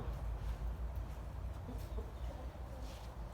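Chickens cluck softly over the steady low rumble of an electric fan blowing on them on a hot day, with a few short calls scattered through the brief stretch.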